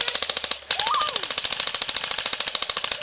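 Airsoft guns firing in rapid automatic bursts during an attack-and-defend game, a fast steady rattle of close, loud shots with a brief gap early on and a short shout cutting in over the firing.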